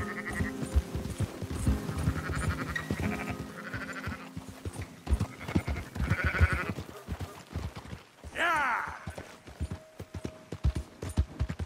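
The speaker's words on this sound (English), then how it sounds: "Fine sheep." Sheep bleat in Red Dead Redemption 2 amid hoof clip-clops and farm commotion, with several short bleats scattered through the scene and one longer, louder quavering bleat near the end.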